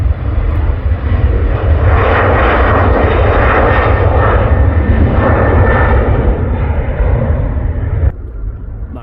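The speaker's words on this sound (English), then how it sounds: "a few recordings of the planes landing and taking off" A fixed-wing airplane roars near the runway at takeoff, a loud, steady engine rumble and hiss that holds for most of the stretch before dropping off sharply near the end.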